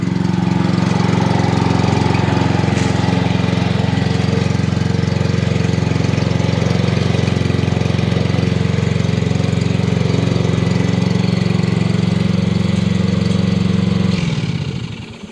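A mulching lawn mower engine runs steadily at a loud, constant drone for most of the time, then winds down and cuts off near the end.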